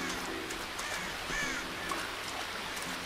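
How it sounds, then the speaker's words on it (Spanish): Birds calling and flapping in the 2013 Tomb Raider video game, a few crow-like caws rising over a steady outdoor wash of wind and ambience, moderately close with no talking. "Pájaros volando."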